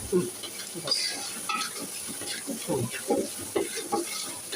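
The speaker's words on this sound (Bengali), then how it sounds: "এবার ভালো করে কষিয়ে তারপরে চালটা দেওয়া হবে মশলা কষানো হচ্ছে" Spices stir-fried in a pan for khichuri, a steady close sizzle and hiss with soft scraping and stirring clatter throughout, and faint voices in the background.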